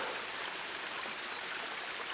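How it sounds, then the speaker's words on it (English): Waterfall and mountain stream along the Kumano Kodo pilgrimage trail in Japan, a steady broadband rush of falling and flowing water, close and continuous with no voices. "Thought I would videotape a couple of these waterfalls because they are so beautiful."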